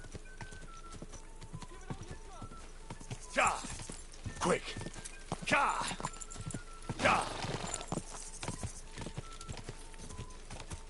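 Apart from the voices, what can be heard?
horse galloping in Kingdom Come Deliverance 2 video game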